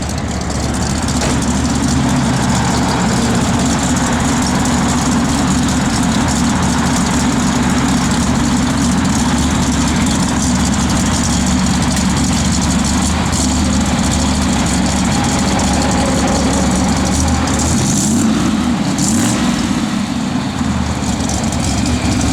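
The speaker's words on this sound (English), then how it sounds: "Good sound and big block." A 1968 Chevrolet Camaro SS big block engine idles steadily, loud and close, with a deep continuous rumble that stays unbroken throughout and has no voices over it.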